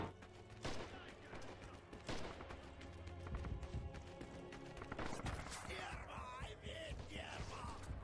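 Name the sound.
gunfire in the video game Red Orchestra 2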